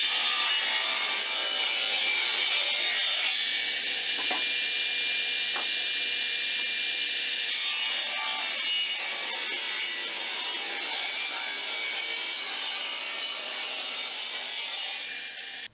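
A table saw rips through a wooden piece being squared up, giving a loud, steady, close whining cut that holds for the whole stretch with slight changes in pitch and no talking.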